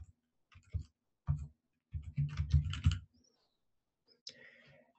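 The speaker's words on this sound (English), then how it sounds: "here I can type in the IP address of the Xojo Cloud server." An IP address being typed on a computer keyboard, a few sparse, quiet key taps in short clusters with near silence between them.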